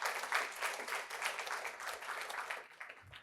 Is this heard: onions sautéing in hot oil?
no